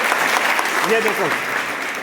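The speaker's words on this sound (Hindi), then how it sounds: "ये देखो बच्ची कैसे ताली बजा रही" A schoolgirl at a girls' inter college in Khatauli claps her hands amid ongoing clapping from classmates, a continuous close patter with a voice speaking briefly over it.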